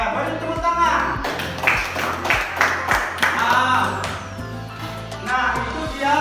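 Classroom applause during a lesson on faith in angels: a group of students claps in uneven bursts for several seconds, the claps sharp and close, with children's voices talking over them.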